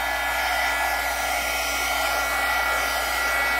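A heat tool blows steadily on a mixed-media junk journal page, a continuous broadband whoosh like a hair dryer running close and unbroken for the whole stretch with no voices.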